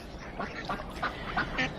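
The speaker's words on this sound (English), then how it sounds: "here are the ducks coming up" Several ducks approaching for leftover sandwich scraps, giving a run of repeated quacks at moderate distance, fairly soft against light background noise.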